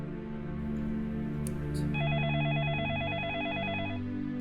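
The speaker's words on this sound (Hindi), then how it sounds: "अरे इस वक्त किसका फोन आ गया?" A telephone rings with a warbling electronic tone, starting partway in and continuing steadily, fairly quiet, with no voices.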